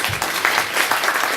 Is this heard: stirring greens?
no